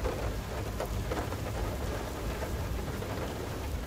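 Steady heavy rain with rumbling thunder in the video game Far: Lone Sail fills the scene continuously, a dense wash of rainfall with low rolling booms and no pauses.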